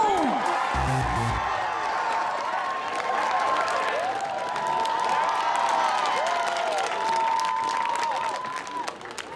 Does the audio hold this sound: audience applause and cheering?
yes